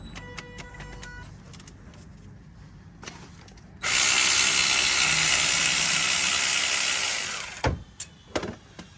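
A ratchet wrench works loose a 14 mm bolt on a Toyota Yaris during a clutch replacement, giving a loud, rapid, continuous whirring ratchet burst of about four seconds between quieter clicks and handling clatter nearby.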